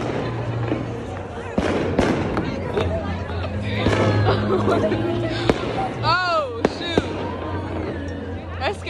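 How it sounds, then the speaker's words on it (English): Fireworks at a campus holiday lighting event, sharp bangs and crackles popping over a steady outdoor crowd murmur, with people talking nearby and a few whistling rising tones near the end. "we gotta get the fireworks"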